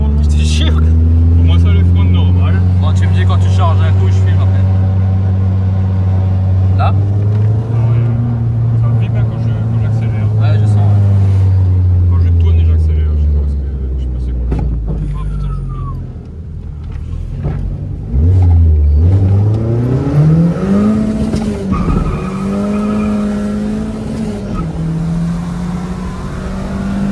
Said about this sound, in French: j'ai une fuite d'échappement, ouais. Mais ça déboîte quand même.